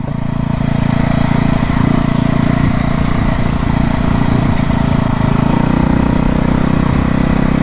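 1968 Harley-Davidson motorcycle engine running for the first time in over 30 years while being ridden through sand on road tires, a loud continuous close-up rumble with no talking.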